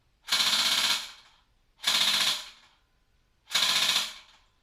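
An Umarex H&K G36X airsoft rifle fires three short full-auto bursts, each under a second and evenly spaced by silent gaps, loud and close, with no talking.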